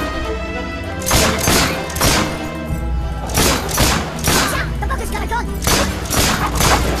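Gunshots and bursting explosive barrels in Fable 3, a run of heavy booming blasts and sharp cracks at irregular intervals, with a voice talking over parts of it.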